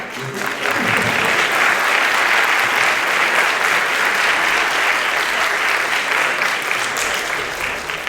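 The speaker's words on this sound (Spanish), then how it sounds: "Es espontáneo, aplauso." Steady, loud applause from a crowd, dense clapping that holds evenly throughout without pause.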